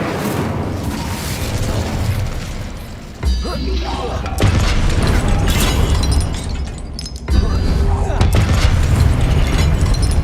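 Spells burst in the Hogwarts Legacy game with loud, dense booms and crackling blasts that keep rolling throughout. A voice is heard casting spells over the explosions.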